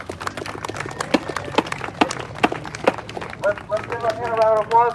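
Crowd at a street protest in Providence, Rhode Island claps in scattered, uneven bursts, then cheers and whoops rise toward the end, with a voice heard over the noise.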